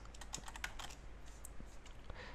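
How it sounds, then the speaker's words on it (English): Typing on a computer keyboard while entering a Dell Optiplex model number into a browser, heard as a quiet, irregular run of soft key clicks over low room hum. "I'm going to type in the model of my machine,"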